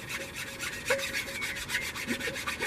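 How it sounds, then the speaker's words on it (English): A hand file rasps lumps off a repaired terracotta garden pot with steady, rhythmic back-and-forth strokes, close and continuous, with no talk. "Just take the big lumps out using your file."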